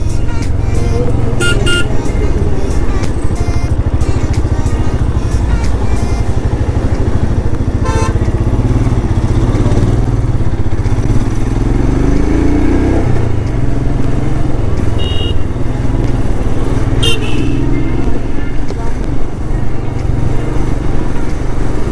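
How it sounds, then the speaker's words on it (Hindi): Road traffic jam on the route from Rishikesh to Sonprayag, with a constant close rumble of motorcycle and car engines and several short horn toots scattered through it. "तो यहाँ लग रहा है जाम और बाइक का उठाया जा रहा है फायदा"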